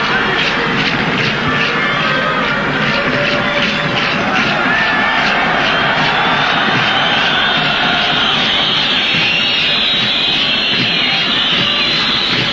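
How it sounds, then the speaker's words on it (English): Loud, sustained whistling and roar from a packed football stadium crowd during a 1994 African Cup of Nations match, Nigeria against Zambia, a dense continuous wall of shrill whistles and noise that never lets up. "Loud whistling in the crowd there."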